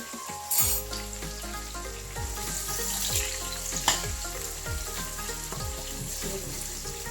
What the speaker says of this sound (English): Put 2 large onions into the oil.